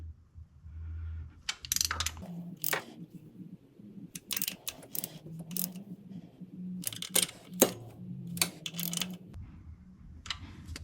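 A ratchet tightening the oil drain bolts on a 2023 Honda Talon 1000R, clicking in several short bursts with brief pauses between them, close and fairly quiet.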